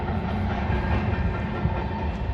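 Freight train hauled by CP locomotives rolling past in cold snowy weather, a loud continuous rumble and rattle of wagons close by with no pause.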